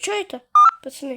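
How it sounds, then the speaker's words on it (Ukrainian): A mobile phone gives a short, loud double beep during a PUBG Mobile session, between bits of casual male speech in Russian. "У меня что-то телефон пикал."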